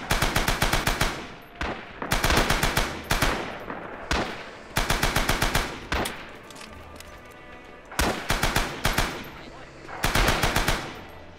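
Machine gun fire in the video game Rising Storm, loud rapid bursts of a few seconds each separated by short pauses, repeating steadily and close up.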